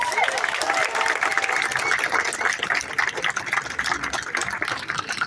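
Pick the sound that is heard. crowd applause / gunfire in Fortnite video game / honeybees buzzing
crowd applause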